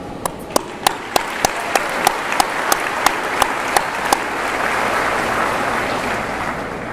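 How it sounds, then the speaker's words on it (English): A high school graduation crowd applauds for several seconds, steady broad clapping with a few sharp, close claps standing out in the first half before settling into an even wash. "please join with me one more time in applauding the successes of these graduates."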